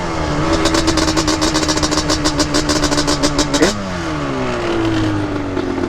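A Yamaha Banshee's two-stroke engine revs hard while being ridden, rising in pitch with rapid pulsing until it snaps off the throttle and falls, then climbs again, loud and close, with no talk.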